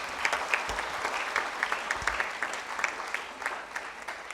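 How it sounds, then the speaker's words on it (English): Conference audience claps for a youth climate speaker, a sustained round of clapping with some distinct individual claps, fairly even in loudness with a couple of low bumps. "Can we please have a huge round of applause for her?"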